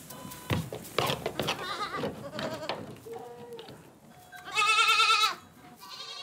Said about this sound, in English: the young goats call out to their mothers